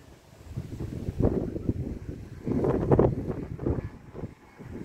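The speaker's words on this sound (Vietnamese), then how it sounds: "gió căng quá các bạn ơi gió mạnh quá" Strong gusts buffet the microphone outdoors while a homemade penguin-shaped kite is flown, a rough, surging roar that swells and fades in waves, loudest around the middle and near the end.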